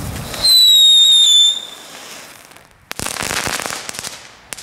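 Leftover consumer fireworks are set off outdoors: a rising whistle screams for about a second, then after a short quiet a burst of crackling pops and bangs follows, loud and close.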